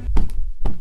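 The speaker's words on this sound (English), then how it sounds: "So this is the sound of my bed." A bed frame being knocked, giving a few dull close thumps with short gaps between them.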